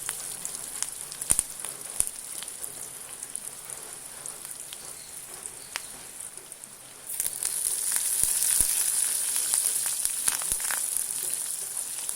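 Oil sizzles and crackles in a pan as shallots and curry leaves fry with popping mustard seeds, a steady frying hiss that jumps louder and busier about two-thirds through, as if more ingredients hit the oil.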